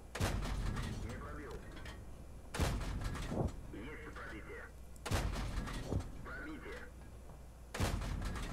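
A T-34 tank's main gun in World of Tanks fires four loud, booming shots, one every two to three seconds, each followed by a rumbling tail and mechanical clunks, with a voice talking quietly between shots.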